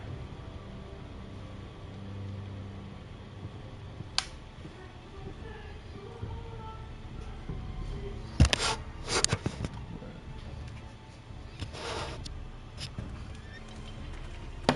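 A horse in the Telltale Game of Thrones video game gives a whinny and snorts amid quiet ambient background, with a few brief bursts over a low murmur.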